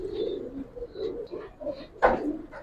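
Giribaz pigeons coo in a loft, with several soft throaty coos close by and a brief louder rustle near the end.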